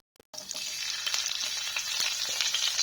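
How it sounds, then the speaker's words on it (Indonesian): Chopped shallots and red chilies hitting hot oil and stir-frying, a sudden burst of sizzling after a brief silence that settles into a loud, steady crackle with faint stirring taps and no voices. "aku tambahi bawang merah cincang sama lombok merah. Aku tumis dulu"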